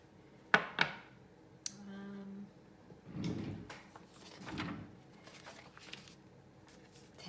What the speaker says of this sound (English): Handy having this little drawer right in front of me so I can grab my scraps when I need it